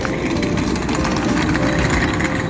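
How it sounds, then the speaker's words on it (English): Heavy trucks driving along a rural road in New Zealand's Waitomo district, a continuous loud low engine rumble and rolling drone held steady throughout, close by, with no talk. "All the trucks are going on this road."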